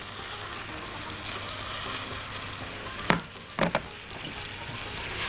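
Fried chicken kofta being stirred in a pan, a continuous sizzle of hot oil with a few sharp scraping clicks of the utensil near the end, close and moderately loud, no talking.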